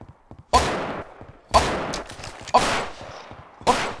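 Four loud single revolver shots about a second apart in the horror video game Cthulhu: An Unspeakable Remod, each a sharp crack with a short ringing tail, over quiet game background.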